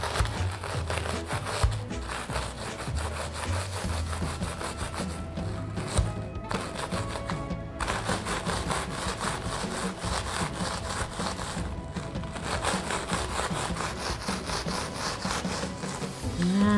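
Biscuits being crushed inside a plastic bag, a steady rough rubbing and crunching that runs continuously and fairly close for the whole stretch, with no talking.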